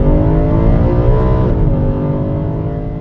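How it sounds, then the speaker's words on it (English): A BMW E92 M3 V8 with a Eventuri carbon plenum and Stage 2 upgrade gives a loud, continuous induction roar, a dense steady growl that eases slightly toward the end. "we can have a look at what is making that wonderful induction noise"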